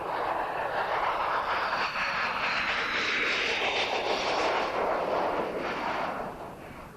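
A MiG-29 jet fighter's engines give a loud, steady roar with a rushing, rumbling texture that holds for several seconds and then begins to fade.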